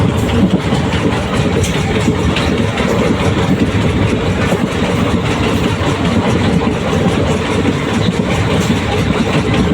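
A passenger train runs at speed between Tenkasi and Tirunelveli in Tamil Nadu, its loud, continuous rumble and rattle heard from on board, with wheels clattering steadily and no talk over it.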